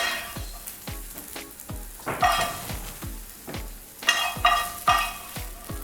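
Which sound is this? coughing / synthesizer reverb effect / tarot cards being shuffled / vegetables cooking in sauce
vegetables cooking in sauce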